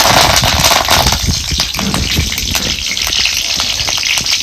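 Curry leaves dropped into hot oil with toasted cumin for a village-style moong dal aamti tempering, giving a loud, close, crackling splutter that fills the whole stretch without letup.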